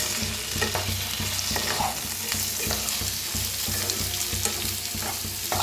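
Spiced potatoes and okra roast in a pan under a continuous close sizzle, with regular scraping strokes of a spoon stirring them; nobody talks.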